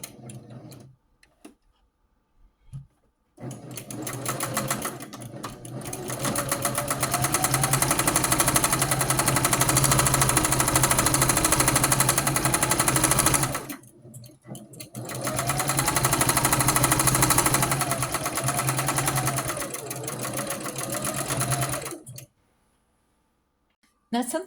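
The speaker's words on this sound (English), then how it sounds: "Just continuing with the quilting process." Sewing machine quilting the X-stitched blocks of a pink quilt-as-you-go rag quilt, running in two long, close, loud stretches of fast rhythmic needle chatter separated by a short pause.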